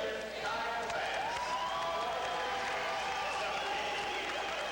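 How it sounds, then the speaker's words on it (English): A crowd and swimmers applaud at the awards ceremony of a 1990 men's conference swimming championship at an indoor swim center, giving steady sustained clapping that fills the space, with a voice faintly audible underneath. "Swimmers applauding the efforts of their teammates as they are presenting the awards."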